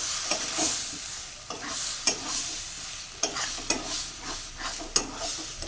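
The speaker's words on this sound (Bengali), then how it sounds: "সবজি যেটা রেখে দিয়েছিলাম সেটা দিয়ে দেবি যথারীতি এটা নাড়তে থাকবো" Taro and vegetables stir-fried in a pan: a steady sizzle runs under repeated scraping strokes of a spatula against the pan, close and moderately loud, with no talking.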